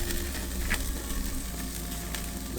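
Chorizo sizzles steadily on a flame grill, a close, dense crackling hiss that carries on without pause.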